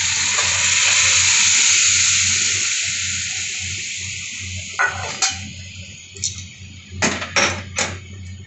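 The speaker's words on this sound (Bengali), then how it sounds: "আমি ছোলার ডাল আর ইঁচড়টা দিয়ে দিই।" Chana dal and jackfruit dropped into a pan of fried spices give a strong hiss that fades, then give way to sharp scraping stirs and clinks near the end.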